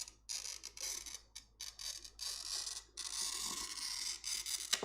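Glass cutter scoring opaque, textured stained glass: a continuous gritty, crackling scratch in several passes with brief pauses between strokes, fairly quiet and close, with no talking.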